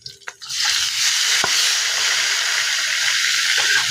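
Meat hits a hot pan in a Filipino home kitchen and breaks into a loud, steady hissing sizzle that holds for several seconds after a few quick clatters at the start.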